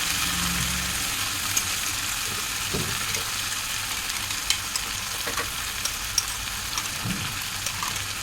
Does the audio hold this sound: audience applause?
no